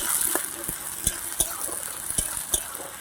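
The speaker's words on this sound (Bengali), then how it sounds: "এবার আমি আদা রসুন বাটাটা দিয়ে দিলাম। এবার এটা ভালো করে আমি কষে নেব।" Ginger garlic paste sizzling in a pan with fried onions, a steady low fry with scattered clinks and scrapes as it is stirred, close and moderately loud.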